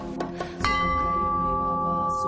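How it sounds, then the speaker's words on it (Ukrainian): A 300-year-old Orthodox church bell struck once inside a temple, ringing out with a loud, sustained metallic tone that hangs and decays slowly after a few softer knocks before the strike. "ударити в стародавній православний дзвін йому 300 років"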